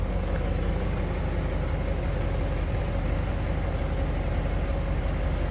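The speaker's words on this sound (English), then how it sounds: "There's the 352 V8 underneath the hood. Very large engine bay in these. See, it's a smooth runner." The 352 V8 engine of a 1959 Ford Thunderbird convertible idles smoothly and steadily nearby, a constant low rumble with an even mechanical hum and no talking.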